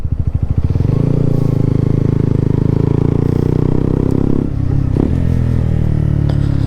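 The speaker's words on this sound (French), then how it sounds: "la moto fera pas moins de bruit parce que je ne peux pas" A motorcycle engine idles loudly up close with a deep, throbbing rumble that steadies, then briefly dips and clatters.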